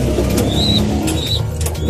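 Pigeons coo softly in a low, rolling rhythm over a busy background, several birds close by, with a couple of brief whistling chirps mixed in and no talking.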